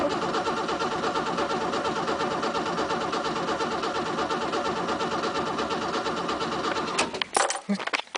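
A 1967 Mercedes with a freshly filled carburetor bowl cold-starts, its engine running in a rough, even idle close by for several seconds before sputtering into uneven bursts and cutting out near the end.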